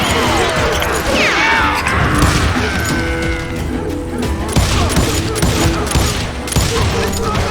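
Gunfire rattles through a shootout in the Call of Juarez Gunslinger video game, dense overlapping shots and bursts mixed with crashes and mechanical clatter, loud and continuous throughout.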